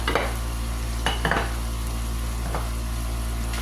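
Butter goes into a hot pan of ground beef stroganoff with noodles and is stirred, giving a few scraping spoon strokes and soft clatters over a constant low hum and faint sizzle.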